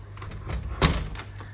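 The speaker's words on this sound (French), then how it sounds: "si je fais mon test ici, que je ferme la porte" A door shutting after a frame repair at a massage shop in Patong, Phuket, Thailand; one soft, close thud with faint knocks around it, no talk.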